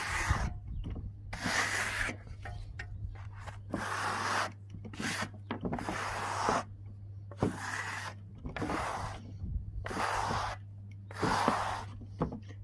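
A trowel or polishing stone rubs and scrapes excess tadelakt lime plaster off a wall in repeated rasping strokes separated by short pauses, close up, over a faint steady hum.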